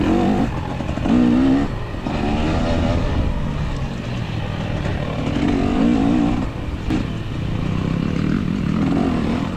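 A racing car engine on the Oak Ridge track in a VCHSS race, heard loud and steady from onboard as it revs up and down through a lap, with no speech.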